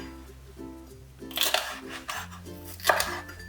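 A knife chops ingredients for nabak kimchi on a cutting board, with a few crisp knocks against the board rising over soft background music, close and fairly loud.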